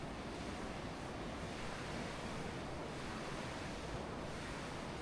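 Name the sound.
river water at the confluence of Sutlej and Spiti rivers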